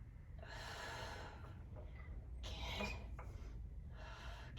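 Breaths drawn through the nose during a Pilates reformer arm workout, several close, airy inhales and exhales that come in separate bursts with short pauses between them, with no talking.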